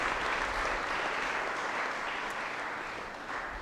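A church congregation claps for the bishop at a confirmation service, a dense burst of applause from many hands that gradually thins out.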